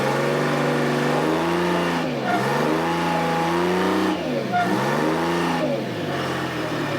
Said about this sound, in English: If it spins the tires, we know the converter's kind of okay.